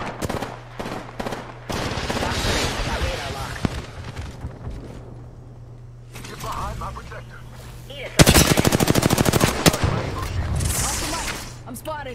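Bursts of rapid automatic gunfire in a first-person shooter game, loud and repeated with a heavy volley near the end, while players talk over it throughout.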